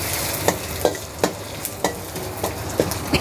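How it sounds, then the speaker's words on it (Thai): Pounded chili and garlic are stir-fried in a hot pan for minced-pork pad kaphrao, with a steady sizzle. A spatula scrapes and knocks in a regular rhythm about twice a second, close and clear, with no talking. "ผัดให้หอมเลยนะคะ"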